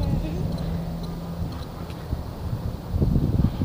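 Cold, very windy outdoor weather, heard as low rumbling wind buffeting against the microphone in uneven gusts, growing stronger toward the end, with faint background noise.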